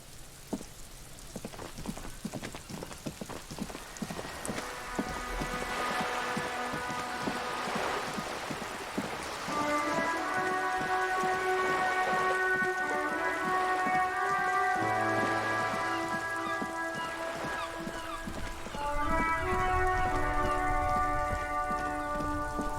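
In Disco Elysium, steady rain patters on a police motor carriage while sustained musical tones and chords play over it, forming a continuous moody ambience without talking.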